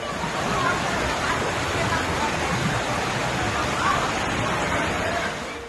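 Floodwater rushing over the Bhuj–Lakhpat highway in Kutch, Gujarat, after heavy rain, producing a loud, dense and unbroken roar that holds steady from start to finish.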